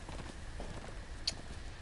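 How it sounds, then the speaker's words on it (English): A horse in the Game of Thrones game moving off, faint hooves clopping in a quick uneven patter on the ground, with a brief sharp click near the end. "And there goes my horse."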